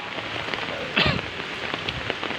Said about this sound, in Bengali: তো এখন বৃষ্টি নামতেছে